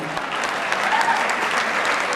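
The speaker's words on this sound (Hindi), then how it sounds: "तालियों की हिम्मत हो तो बजा दीजिए, लगना चाहिए।" An audience at a Hindi poetry recital applauds with sustained, dense clapping that fills the hall evenly for the whole stretch, loud and close, with no speech over it.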